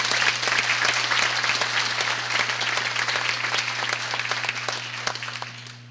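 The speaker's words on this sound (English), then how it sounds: "please give them a warm round of applause" Crowd applause at an outdoor groundbreaking ceremony for the seismic restoration of a federal building, dense steady clapping that tapers slightly toward the end, with a constant low hum underneath.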